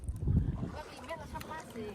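A small wooden rowing boat moves through a marshy field of water lilies, with low watery swishes and gurgles up close and wind noise, while a voice talks nearby.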